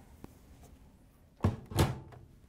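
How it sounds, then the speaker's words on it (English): A Frigidaire/Electrolux front-load washing machine door is pushed shut with two close, solid thumps a moment apart, heavy and low, following a quiet stretch with a small tap. "Once you have it in place, we can close the washer door."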